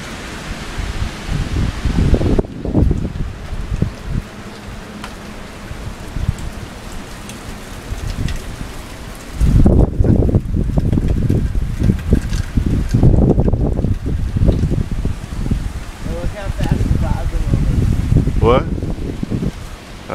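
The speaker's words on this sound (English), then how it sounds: "pretty shitty storm" Heavy rain and gusting wind roar during Hurricane Irene, loud and continuous, with surges of wind and a few voices talking over it.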